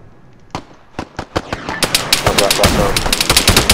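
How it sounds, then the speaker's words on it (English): Mortar fire in the video game Operation Black Jacket, sharp explosive cracks starting sparse then quickening into a dense, loud barrage of blasts. "We're taking mortar fire."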